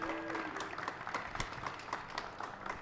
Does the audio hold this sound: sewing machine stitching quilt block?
no